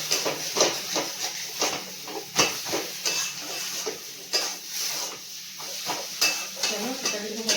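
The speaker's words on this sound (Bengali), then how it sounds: "যত শাক নাড়বে আর তলায় লেগে যাবে তত খেতে কিন্তু শাক ভাজা টেস্ট হবে।" Greens being fried in a pan and stirred, a repeated scraping rhythm of the spatula against the pan over a steady sizzle, fairly close and moderate in level, with no talking.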